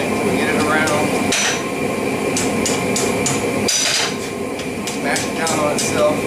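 Repeated hammer blows ring on hot steel as a scroll is forged over the edge of an anvil, a rapid irregular series of sharp metallic strikes close by, loud against a constant background roar.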